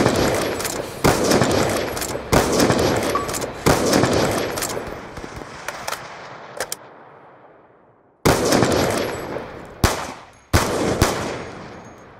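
Rapid bursts of gunfire in a team deathmatch shooter video game, loud automatic fire and single shots in quick volleys, a brief lull, then more close shots.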